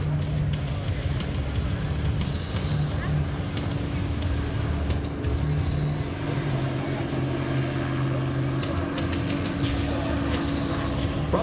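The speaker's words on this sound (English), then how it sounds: "he'll be coming in for a banana pass to the left to right, showing you the bottom side of the aircraft" L-39 Albatross jet making a banana-shaped belly pass at the 2017 New York Air Show: a steady, broad jet roar that holds loud throughout, mixed with crowd and announcer voices.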